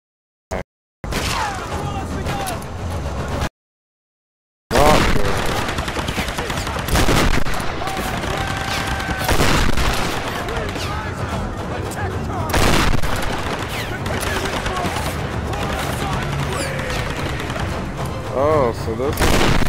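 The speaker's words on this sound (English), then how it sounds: "so this is a fiery shotgun" Fiery shotgun blasts in the Tomb Raider Definitive Edition game, repeated loud booming shots with crackling bursts and debris over nearly twenty seconds, with a short silent gap early on and no clear talk.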